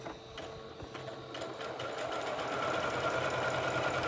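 Sewing machine stitching clear elastic onto fabric with a 3/8-inch seam allowance, a close, steady mechanical whir and rapid needle chatter that speeds up and grows louder partway through, with no talking.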